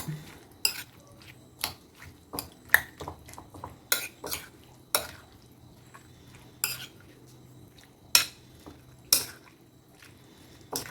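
A spoon scrapes and clinks against a bowl while tomato and yogurt salad is stirred, with irregular close taps and soft squishing mixed through, no talking.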